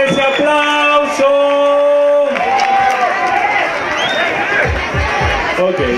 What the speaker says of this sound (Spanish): Gente, fuerte ese aplauso.